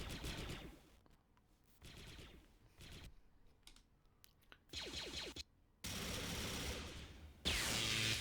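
Rapid bursts of blaster fire from Star Wars Galaxy at War, with clone commandos facing droid marines, crackle in several dense volleys separated by short lulls, loud and close.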